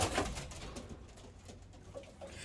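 Racing pigeons in a loft give soft, faint coos amid light rustling and background noise, with no voices.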